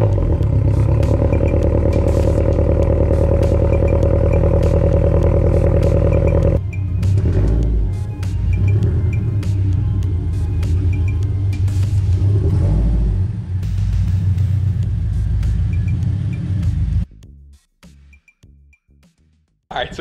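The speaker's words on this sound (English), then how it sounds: "let's go ahead and get the car all started up" A Toyota GR86 engine cranks and fires up, settling into a steady, loud rumbling idle close by, with a few revs before it cuts out near the end.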